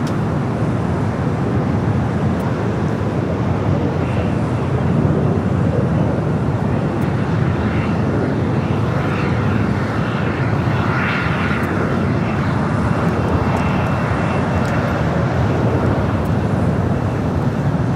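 An American Airlines jet comes in to land on runway 25 left at Los Angeles International Airport, its engine roar loud and unbroken for the whole stretch.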